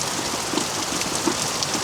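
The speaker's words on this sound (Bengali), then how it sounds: "গাইস এখন হইতেছে পুরা বৃষ্টি, ঝুম বৃষ্টি।" Heavy, steady rain pours down in a downpour, a dense continuous hiss of drops on surfaces with occasional louder splats, with no voices heard.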